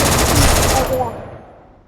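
Video game gunfire as enemies are shot down, a loud dense rapid burst of automatic shots lasting about a second, then a fading echoing tail.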